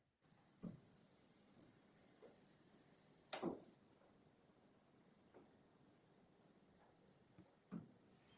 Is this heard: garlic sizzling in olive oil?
no